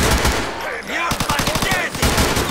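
GTA IV gunfire: a loud, rapid burst of automatic shots fired close up in a steady rattling rhythm, with bursts of game noise before and after.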